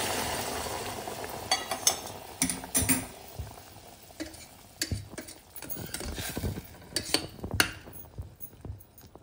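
A spoon scrapes and knocks around a pot of masala rice with a little sugar added, sautéing with irregular clinks and soft scraping strokes, close and moderately loud, with no talking.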